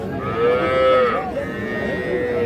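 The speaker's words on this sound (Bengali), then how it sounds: "চতুর্পাশে শুধু গরু আর গরু" Cattle and calves moo loudly nearby at a livestock market, one long drawn-out low followed by another, with a crowd murmuring in the background.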